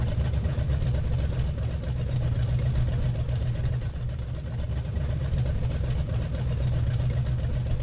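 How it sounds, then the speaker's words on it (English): A car engine idles with a steady, choppy low rumble that pulses evenly throughout, heard up close in a garage with no other sounds over it. "Nice chop to the engine."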